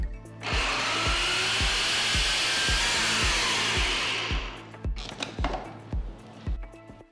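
A mixer blender grinds roasted sesame seeds and peanuts in a loud continuous whir for several seconds, then stops, followed by a series of short pulsed bursts and rattles.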